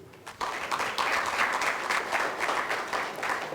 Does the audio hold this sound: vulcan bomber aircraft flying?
no